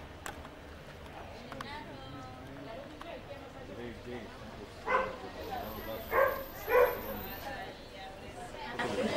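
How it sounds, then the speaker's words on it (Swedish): Dogs in Cyprus give a few short, sharp barks and yips spaced over several seconds at a moderate distance, mixed in with people talking nearby. "Det är hundar."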